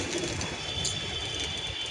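Pigeons settling near a roadside loft, a green-marked male with females landing, give soft intermittent coos over a steady broadband outdoor hum.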